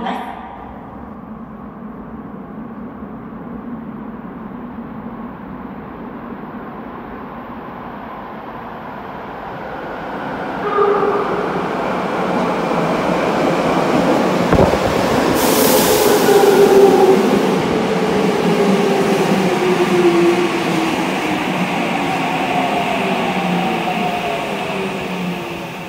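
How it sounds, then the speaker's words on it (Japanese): A Saitama Railway 2000 series subway train, an N-gauge model running underground, rumbles in and grows louder toward the platform, with a sharp hiss midway and a rising whine as it arrives, under a station announcement. "1番線に浦和美園行きが参ります。"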